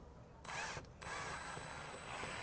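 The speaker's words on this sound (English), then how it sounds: "We drill down." Power drill boring into an outdoor wall to set a screw-in hook, a short burst, a brief pause, then a steady whine running to the end, close and clear.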